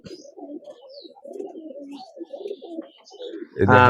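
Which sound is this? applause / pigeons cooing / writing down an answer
pigeons cooing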